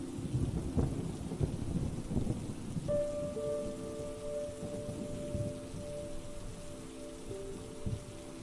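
Steady gentle rain pours throughout, with low rumbles of thunder rolling underneath; from about three seconds a soft sustained musical drone joins and holds under the rainfall.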